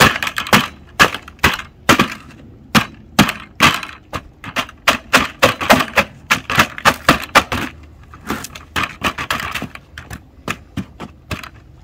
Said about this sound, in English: I'm going to break them up pretty good.